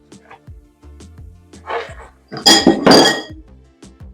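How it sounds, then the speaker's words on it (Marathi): A spoon kneads flour dough for a homemade pizza base in a bowl, with short knocks and clinks against the bowl and a couple of louder scraping bursts, close up. "आधी मी चमच्याने मळून घेते आणि नंतर हाताने व्यवस्थित मळून घेते"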